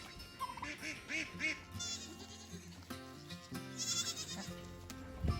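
A young goat bleats repeatedly in short, wavering cries nearby, with other farm animal noises and some background chatter mixed in.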